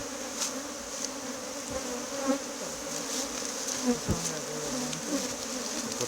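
Honey bees in Guyana droning in a dense, continuous buzz around a strong hive, close and steady, with occasional louder passes of individual bees.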